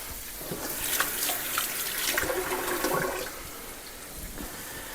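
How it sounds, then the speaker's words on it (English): A hand is rinsed under a running kitchen tap, a close, splashy rush of water for about three seconds before it eases off, with no one speaking. "Let me just rinse my hand here."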